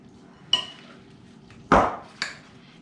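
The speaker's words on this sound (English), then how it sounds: "get this all stirred up" A spoon stirs yam fruit salad in a bowl, making three separate clinks and scrapes against the dish, the middle one loudest and longest, with quiet pauses between them.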